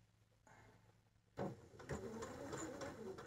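A sewing machine stitches a bag lining, starting faintly and then running in a quiet, close, rhythmic whir for about two seconds.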